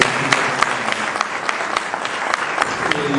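Audience applause fills a press-conference hall at a launch event, a steady dense patter of many hands clapping throughout, fairly close and sustained with a few sharper claps standing out.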